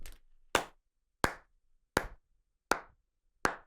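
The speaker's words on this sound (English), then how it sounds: "That's a slow clap" Six slow, evenly spaced hand claps, close and sharp, each ringing out briefly before the next, with quiet pauses between and no talking.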